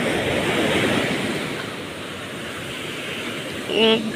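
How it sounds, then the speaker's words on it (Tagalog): Strong rushing water and surging waves roar steadily up close, with a brief voice in Filipino near the end. "Lakas ng tubig, oh."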